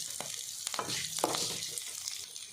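Chicken sukka masala with cloves and curry leaves frying on a slow flame, a soft steady sizzle with a few spoon scrapes and taps against the pan, close and quiet.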